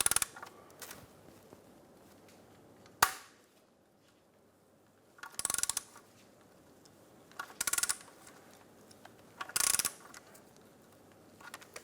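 A 12 mm socket ratchet tightening the tensioner pulley on a 2003-2007 Infiniti G35, with several short, close bursts of ratcheting clicks and a sharp metallic clank, separated by quiet pauses.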